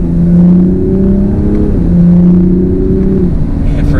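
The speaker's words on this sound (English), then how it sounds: "Let's do a small acceleration again." A 2020 Toyota Supra accelerating from inside the cabin, its engine note rising in pitch in two gentle pulls with a brief dip between, loud and close, with no talking.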